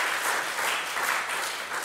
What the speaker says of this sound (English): if everyone can give Trisha another round of applause